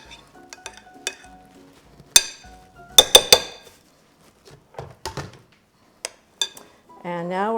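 A spatula scrapes and clinks against a mixing bowl of stiff whipped cheesecake filling, with scattered sharp taps and knocks separated by quiet gaps, and a voice speaks briefly at the end.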